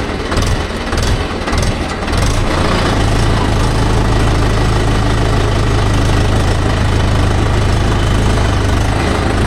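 A Mahindra tractor engine runs close by with a loud, steady, knocking diesel rumble that holds without pause throughout.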